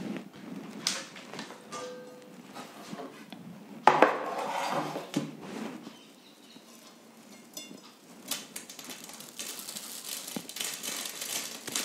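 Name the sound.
crispy besan sev being broken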